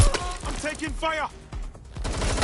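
Gunfire in the video game Watch Dogs Legion, rapid shots cracking through a chaotic scene with shouted voices and strained cries layered over the bursts.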